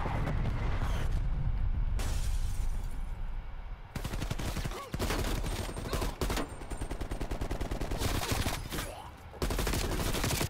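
Incoming artillery fire in an online multiplayer shooter game comes as dense bursts of rapid gunfire and blasts. Loud volleys are broken by short gaps, with mechanical clanks in between and faint voices underneath.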